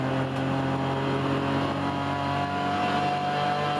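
An onboard race car engine, a BMW E30 at Pukekohe Park Raceway, drones steadily at high revs through a series of curves, loud and close with a continuous tonal whine.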